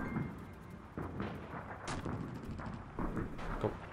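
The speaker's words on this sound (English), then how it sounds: "We love bombs in this, don't we? Everything's just blowing up." Bombs detonate in a classic Call of Duty battle, heavy thuds and booming blasts rolling in at irregular intervals amid a constant din of war, moderately loud and fairly distant.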